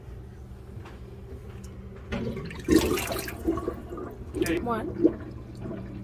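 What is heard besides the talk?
water draining down a kitchen sink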